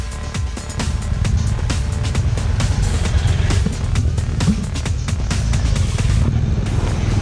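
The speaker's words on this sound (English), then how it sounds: "jump on your bikes and let's try the slalom" BMW motorcycles running an off-road slalom during basic off-road training, a steady loud engine roar rising and falling slightly with throttle across the whole stretch, with no talking heard over it.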